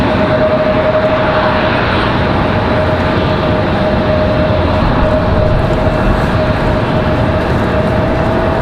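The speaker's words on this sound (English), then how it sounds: "There's our A220 arrival, again from Boston" An Airbus A220 arriving at night at Raleigh Durham airport, a steady, loud, broad jet roar that stays even throughout with no talking.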